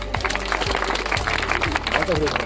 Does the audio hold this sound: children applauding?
yes